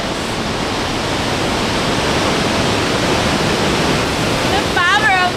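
A steady, loud roar of the Rhine Falls in Switzerland, heard from a boat, fills the whole clip, broad and unbroken, with a brief higher whine near the end.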